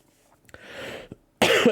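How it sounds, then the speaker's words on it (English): A person coughs in a few short bursts, with a louder, harsher cough at the end, close and clear with no talking. "Sorry, I still cough a little bit."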